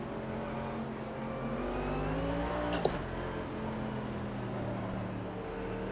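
In the Automobilista 2 racing game, race car engines drone steadily with rising and falling harmonic tones as the cars shift and accelerate, loud and continuous with a brief sharp click midway.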